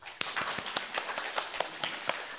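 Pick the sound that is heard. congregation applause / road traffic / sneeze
congregation applause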